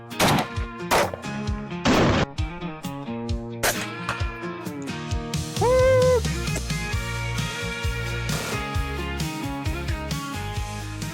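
Pistol shots from a Bodyguard 2.0 firing Buffalo Bore 90 grain standard pressure .380 ACP rounds, a string of sharp, loud reports at irregular intervals, up close, with ringing tones and clutter between shots.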